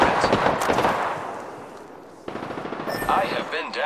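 Automatic weapon fire rattles in rapid bursts during an Apex Legends match, loud and close, fading briefly before another sharp volley of shots with game effects around it.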